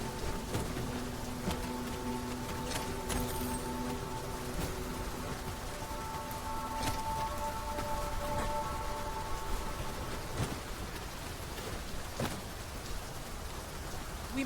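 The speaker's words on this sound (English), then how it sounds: "We must be really down on our luck to get caught out in such a downpour." Steady, heavy rain pours down in a continuous hiss in the video game Dragon's Dogma 2, with soft sustained tones lingering in the background.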